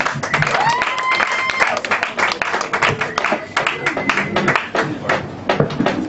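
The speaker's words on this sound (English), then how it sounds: "David gets another round of applause" An audience applauds in a room, dense clapping rising and thinning over several seconds, with a voice briefly audible early on.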